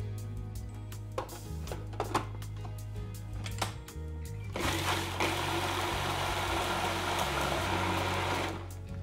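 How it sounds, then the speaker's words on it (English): A food processor blends cider vinegar and brown sugar into barbecue sauce. After a few light clatters it starts with a loud, steady whirring drone that runs for about four seconds, then cuts off. "So to mix this sauce up, we are gonna use our food processor."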